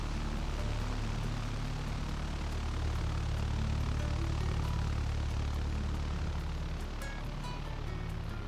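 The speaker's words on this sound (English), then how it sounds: "Nice sounding engines." Propeller engines of a BN-2 Islander twin-engine aircraft in a flight simulator, a steady loud droning hum with low harmonic tones holding constant throughout, no voices.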